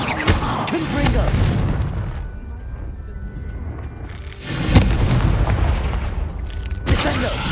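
In a video game, the Confringo spell sets off heavy booming explosions, several deep blasts in quick succession amid combat noise, with voices speaking at times.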